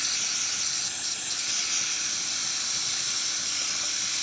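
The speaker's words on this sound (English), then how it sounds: "The steam coming out from a Jura." Steam hisses steadily from the steam outlet of a Jura coffee machine, a loud, continuous broadband rush that holds at the same level for the whole stretch with no voices.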